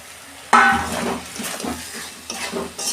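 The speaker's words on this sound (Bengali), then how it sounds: "হয়ে গেছে, আমি সবজিগুলো দিয়ে দিচ্ছি।" Vegetables, including drumsticks, potato and brinjal, drop into a pan of frying fish curry with a sudden splash and sizzle, followed by scraping spatula stirs and clinks against the pot, close up.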